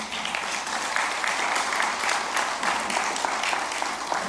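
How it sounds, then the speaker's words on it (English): Dense, steady audience applause in a hall at a Gandhi sesquicentennial event, many hands clapping evenly and continuously at moderate distance. "Could we have a round of applause for all of them?"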